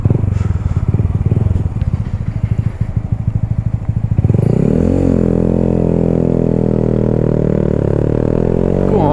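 A Honda MSX motorcycle pulls away up a steep hill, its small single engine chugging in rapid pulses before settling into a loud, steady drone as it climbs, close to the microphone.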